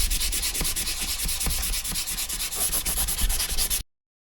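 Hand sanding of wood with fine P600 sandpaper during a boat tiller renovation, a steady close dry rasping scrape with regular back-and-forth strokes, continuous and loud for about four seconds with no talking.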